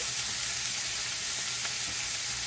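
Shrimp cook in oil in a pan with a steady, bright sizzle, a continuous crackling hiss that holds even and close throughout with no voices.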